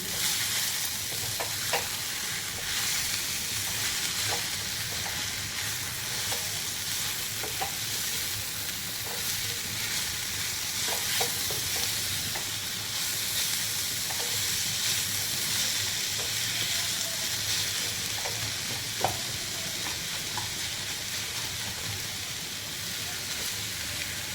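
Grated radish and its leaves sautéing in a pan, a continuous soft sizzle with scattered light scrapes and taps of a spatula turning the vegetables, steady and moderately quiet throughout with no voices.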